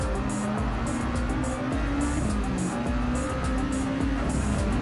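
Race cars roaring through a Gran Turismo Sport video game race, engines droning loud and continuous with tire squeal and skidding over the top, no talking throughout.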